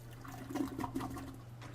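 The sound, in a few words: toilet flushing in a video game, Shadows Over Loathing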